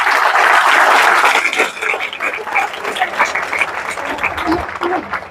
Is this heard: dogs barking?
no